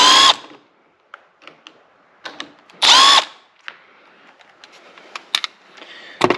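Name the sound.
impact driver with Phillips bit removing a door panel screw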